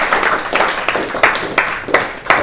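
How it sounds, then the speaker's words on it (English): Clapping from a small group in a room during an electrical toolbox talk, heard as a handful of separate bursts spaced out over a couple of seconds, close and fairly loud. "So I think the people behind us are all going to clap now,"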